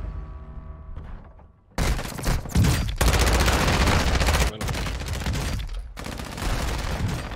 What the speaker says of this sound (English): Dude, I'm just shooting.